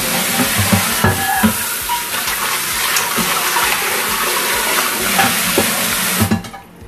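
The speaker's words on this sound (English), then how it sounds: "I am putting a water" Water pouring steadily into a large casserole for boiling potatoes, a loud close continuous gush with splashing, ending abruptly near the close.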